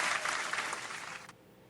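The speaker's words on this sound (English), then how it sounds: "Big round of applause" Loud crowd clapping rolls on for just over a second, then cuts off abruptly, leaving a faint room hush behind.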